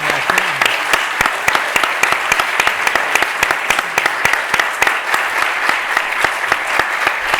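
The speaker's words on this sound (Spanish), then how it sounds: "es este aplauso que te vamos a dar" An audience at a book-signing event applauds steadily and loudly throughout, with dense sustained clapping and a few sharper individual claps standing out close by.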